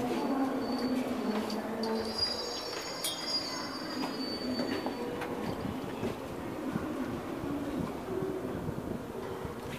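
A train pulls into JR Kyoto station, its wheels squealing in a high thin whine over a steady rumbling roar of rolling stock, loud and continuous throughout.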